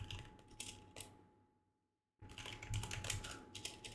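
Keys clatter on a computer keyboard in quick bursts, followed by a short silence and then a denser, steady run of typing, close and fairly quiet.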